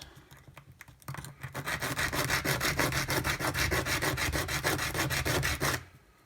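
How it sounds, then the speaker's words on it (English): Rhythmic back-and-forth sanding of a small wooden model ship part with sandpaper, a fast rasping scrape repeating steadily for several seconds after a few brief taps, then stopping abruptly. "So I'm just going to sand the back of the second arm. Actually put a bit of sandpaper on."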